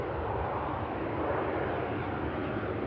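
A British Airways airliner touches down at Manchester Airport with a steady, fairly faint broadband engine roar heard from a distance. No distinct impact stands out, and no one talks.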